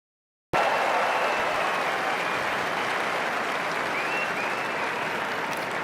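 Outdoor crowd applauds at a presidential parade, a dense, steady wash of clapping that starts abruptly after a brief silence and holds at full strength throughout, with faint cheers mixed in.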